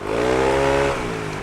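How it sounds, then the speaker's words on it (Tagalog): A scooter exhaust drones steadily with a throaty, buzzing rev close by, easing off slightly near the end; the clutch has a stiffer spring. "Kung naririnig nyo rin sa tambucho ko, iba yung tunog ng tambucho ngayon."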